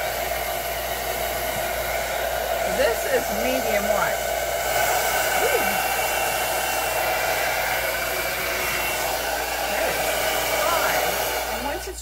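A Jinri negative ionic hair dryer runs steadily on its cool shot setting, a constant close whir lasting throughout while a person speaks briefly over it.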